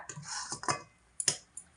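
A metal lid is set on a kadai of semolina cooking on the stove: a few light close clinks, then a sharper metallic clatter, all quiet and brief.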